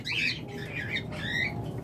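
Pet albino Fischer's lovebird pairs squawk in three harsh, close bursts, each short and shrill, over a busy background of rustling and low noise.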